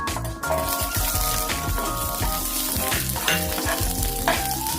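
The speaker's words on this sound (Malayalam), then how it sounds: "ഇനി ആ ചട്ടിക്കകത്തേക്ക് നമുക്ക് ഈ ഉള്ളി ഇട്ട് വെക്കാം" Shallots and a sliced onion frying in a hot pan for a chilli chutney, a steady close sizzle broken by repeated rhythmic scraping strokes of stirring, with no talking.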